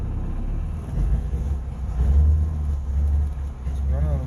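A two-stroke boat outboard runs at a low, throbbing idle, its heavy rumble swelling and easing close by while someone talks over it.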